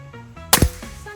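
A PCP Alpaca air rifle shot striking a steel target: one sharp, loud crack followed at once by a short metallic ring, standing out against a quiet outdoor background.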